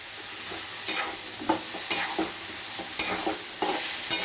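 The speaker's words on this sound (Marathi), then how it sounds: "छान परतून घ्यायचं त्याला" Finely chopped, washed ridge gourd being stirred and sautéed dry in a pan, with a steady sizzle and a regular series of scraping spatula strokes roughly every half second.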